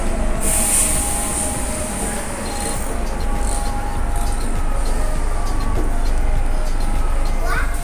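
A metro train in Rome rumbles loudly and continuously nearby, with broadband wheel noise, brief high squeals and clicks, and some faint voices in the background.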